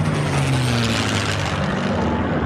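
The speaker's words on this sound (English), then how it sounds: "The planes flying low to the ground." Historic World War II military planes pass low overhead at an air show at Dallas Executive Airport, a loud, continuous propeller-engine drone with a slowly shifting pitch as they fly by close.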